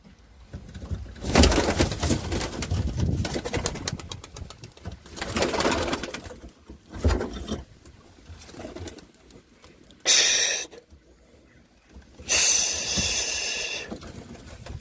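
Young pigeons are released in groups, with soft cooing and bursts of wing flapping as birds take off, including two sharp, bright flurries of wingbeats near the end.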